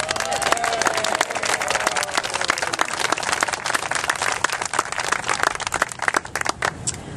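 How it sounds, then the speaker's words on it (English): Audience applauds a standing couple of parents at a formal ceremony, a dense, steady wave of many hands clapping throughout, fairly loud and continuous with no voices on top. "and Monica Stanley, Debbie and Jeff Morris, will you please stand for a round of applause?"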